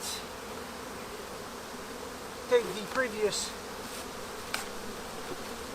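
Honey bees buzzing faintly around an opened brood hive while queens are being reared, a soft steady drone with a few brief louder passes near the middle, and a quiet voice speaking briefly.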